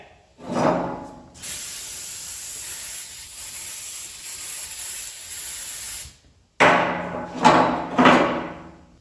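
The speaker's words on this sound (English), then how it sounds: "spray these things down and get the paint" Brake cleaner sprayed from an aerosol can onto old parts of a 1978 AMC Gremlin drag car: a brief burst, then a long steady hiss lasting several seconds, followed by shorter close spurts.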